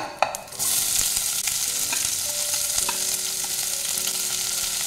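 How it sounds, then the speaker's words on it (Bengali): Onions and black cumin seeds hiss and sizzle steadily in hot oil for a Bengali taro-root fish curry, with a sharp burst as they hit the pan, then continuous close frying with a few stirring clinks. "তেলের মধ্যে দিয়ে দেবো কালো জিরা আর দিয়ে দেবো পেঁয়াজ।"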